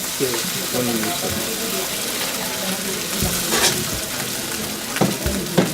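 Masala and then potatoes going into a hot pan of oil after frying peanuts, giving a steady close sizzle and frying hiss with a few stirring scrapes and bumps.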